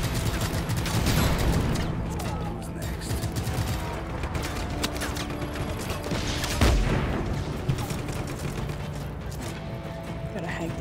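Repeated gunfire in the video game Just Cause 3, rapid sharp shots in bursts with a heavier impact midway, running throughout beneath a talking player and busy game noise.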